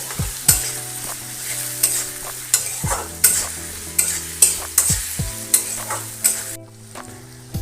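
Chicken sizzles loudly in a wok while a spatula scrapes and clanks in a steady rhythm, about a dozen strokes, with no voices.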